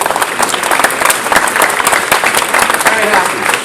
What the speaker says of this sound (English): but yes, a round of applause